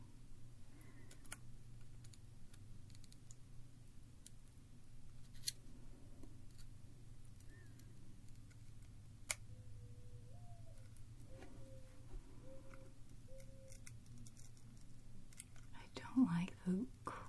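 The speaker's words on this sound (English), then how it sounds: "It's making like crunchy little sounds that make me think that something's wrong." An iPod Mini is pried open, giving faint crunchy clicks and scraping ticks from the casing, with soft whispery handling noise, a few brief beeps, and a louder clatter near the end.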